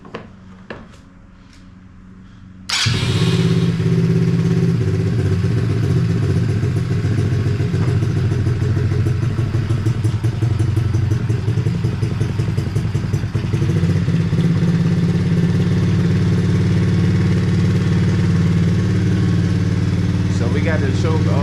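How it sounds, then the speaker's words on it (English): A small engine on a Hawk 110cc ATV or RFZ 125cc bike starts up during a service and settles into a loud, steady running idle with rattly clatter. A brief quiet moment precedes the start. "we should be good to start the bike"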